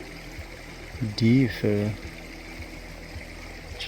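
Creek water flows steadily at a crossing, a soft constant babble heard close, while someone speaks briefly.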